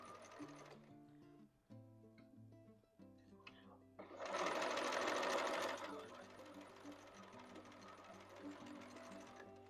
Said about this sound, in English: We're going to start sewing a 1/4 inch seam, and you can feel them nesting.